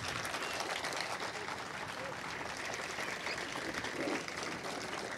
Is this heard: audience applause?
yes